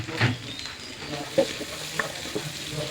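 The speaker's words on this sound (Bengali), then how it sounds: "এখন আমি এর মধ্যে দিয়ে দিচ্ছি গাজর কুচিটা। একটু হালকা করে ভেজে নেব" Chopped carrot frying lightly in melted butter in a pan, a soft steady sizzle broken by a few sharp stirring clacks, heard close with no talking.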